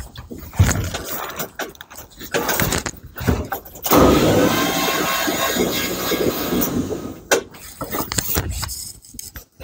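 A 1962 Chevrolet C20's 235 straight-six engine cranks on the starter with all spark plugs removed, giving a fast, even, hollow whirring churn in long bursts separated by short pauses, loud and close.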